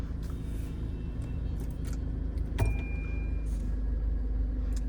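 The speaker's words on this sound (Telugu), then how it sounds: "కార్ అయితే స్టార్ట్ చేశాను, చూసుకోవచ్చు." A 2018 Tata Hexa XTA diesel car with an automatic manual transmission idles nearby, giving a steady low engine rumble and drone throughout with one brief click partway.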